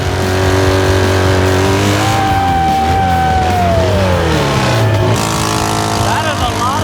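A motorcycle tire burnout at Sturgis throws off heavy smoke. A loud, close engine revs hard, its pitch climbing and falling over a continuous rear-tire spin, with the noise of the crowd around it.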